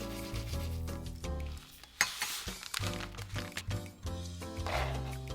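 Ramen seasonings of sugar, grated garlic and white sesame seeds being stirred together with a utensil in a bowl: close, continuous scraping and clinking with sticky, wet swishes and a sharp tap partway through, no voices.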